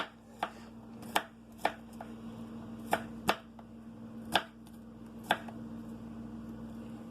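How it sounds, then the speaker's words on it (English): A knife cuts turkey meatloaf ingredients into little cubes on a board, quiet sharp chops at an irregular pace, about nine strikes over a low steady hum. "And cut it up into little cubes like that."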